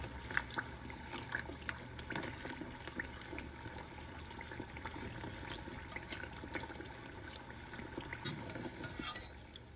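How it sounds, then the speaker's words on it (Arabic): A wooden stick stirs Zainab's fingers pastries as they fry in oil, producing a continuous close bubbling sizzle with scattered light scraping and clinking throughout. "تنبقاو نحركو هاد العود باش ما نلاصقوهمش مع بعضياتهم"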